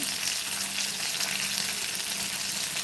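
Continuous crackling sizzle of chilli-powder-coated Bombay duck fish frying in hot oil, steady and close with a faint low hum beneath, no talking.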